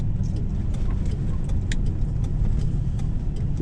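Inside a Lincoln Town Car, the engine drones steadily with a dense low rumble as it accelerates toward highway speed, mixed with road and cabin noise and a few light rattles.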